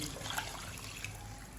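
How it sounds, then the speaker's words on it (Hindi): Water poured into a pot of aloo matar curry with potatoes and peas, a soft continuous trickling and splashing heard close by, fairly quiet and steady with no talking. "अब जो है ना हम इसमें पानी ऐड करेंगे"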